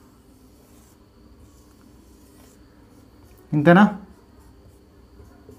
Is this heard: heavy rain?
no